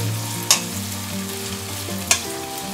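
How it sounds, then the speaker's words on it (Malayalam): Garlic, ginger and green chillies sauté in a pan for pav bhaji, with a steady close-up sizzle and two sharp clinks of a spoon stirring against the pan. "ഇതിലേക്ക് വെളുത്തുള്ളിയും ഇഞ്ചിയും പച്ചമുളകും കൂടി ചേർത്ത് കൊടുത്തു. ഇതിപ്പൊ നല്ലോണം വഴറ്റണം"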